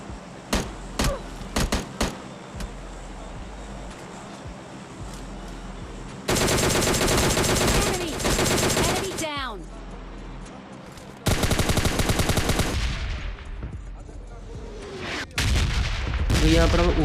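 Gunfire in the mobile battle royale PUBG Mobile Lite: scattered single shots, then long sustained bursts of rapid automatic fire, loud and close, broken by short pauses, with some engine and movement noise between volleys.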